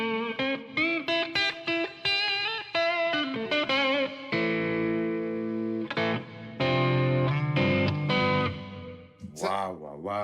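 Electric guitar played through an amp profile on the neck pickup with the volume rolled right down, a series of plucked notes and ringing chords with effects, close and clear, then one short sustained phrase.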